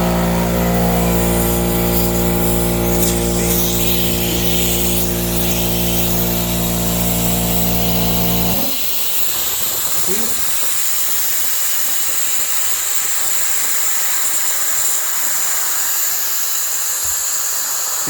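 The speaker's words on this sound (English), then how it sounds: "If you leave this valve open, as the air fills up in the tank, it escapes." A loud air compressor runs with a deep mechanical drone, then cuts off abruptly partway through, leaving a strong, continuous hiss of air escaping from an open valve on the tank while it fills.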